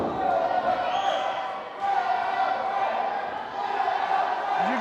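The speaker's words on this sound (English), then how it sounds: "As you can hear the crowd" A crowd at a wrestling event roars and cheers steadily from some distance, a sustained wash of voices with a commentator talking over it.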